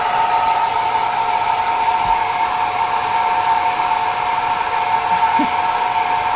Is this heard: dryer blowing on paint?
yes